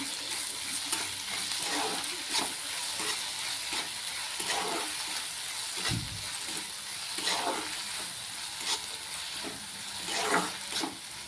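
Dry hyacinth bean vegetable stirred with salt and turmeric in a pan, a continuous close sizzle broken by repeated scraping strokes of a spoon and one dull knock.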